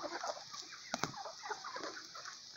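A chicken clucks faintly before slaughter at a farm on a rainy day, with soft scattered calls over low background noise and a couple of sharp knocks.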